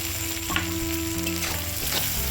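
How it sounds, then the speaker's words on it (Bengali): Spice masala and paneer sauté in a pan for mutter paneer, giving a steady, loud sizzle and crackle with soft stirring scrapes throughout. "ভালো করে মশলাটা কষে নেব পনিরের সাথে"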